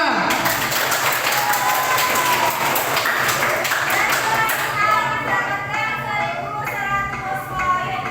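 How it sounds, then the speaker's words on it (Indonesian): Elementary school children at a Ramadan quiz competition clap for the class 5 team, dense, lively clapping that fills the room under some voices and chatter. "Tepuk tangan untuk kelas 5."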